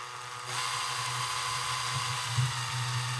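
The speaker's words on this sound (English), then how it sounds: "I'm going to run this drill in reverse" A power drill running in reverse whirs steadily at close range after starting up, with a constant high whine and a brief heavier grind near the end.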